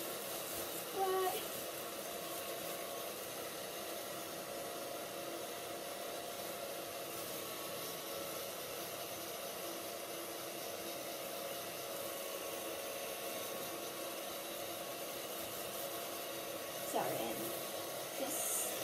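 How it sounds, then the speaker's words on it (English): A hair dryer blows through a plastic bag in a steady, even roar that runs continuously at moderate loudness, with a brief rustle near the start and another near the end. "I just kind of put the blow dryer on the bag and then kind of just poked it through"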